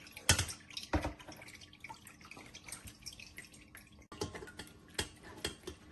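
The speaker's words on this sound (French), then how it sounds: "Et je vais le tamiser ici directement. Oui, pour recueillir l'eau." Pineapple juice strained through a sieve, with soft irregular drips and splashes falling close by and a few sharper taps mixed in.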